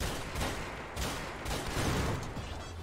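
Gunfire crackles in a Garry's Mod Trouble in Terrorist Town round, a dense burst of rapid shots with a few louder pops, fairly distant and washed in game noise.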